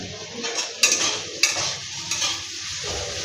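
Chopped green chillies land in a pan of frying chicken biryani with a soft sizzle, then a spoon stirs and scrapes against the metal in a few sharp clinks, close and without speech.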